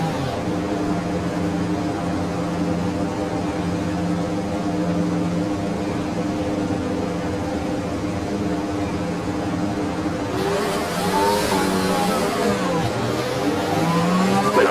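An F1 race car engine in the F1 2020 video game holds a steady, droning note at the race start, then rises sharply into a rev with a burst of noise near the end.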